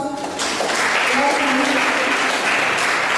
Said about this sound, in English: The Cameroonian Community, a round of applause.